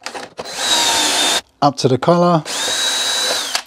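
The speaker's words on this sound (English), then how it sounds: "And then when I drill into it," A power drill drives a bit into wood through a pocket-hole jig with a depth collar, building a dog crate cabinet: two long steady whines with a brief gap, loud and close, and a few spoken words in the pause between them.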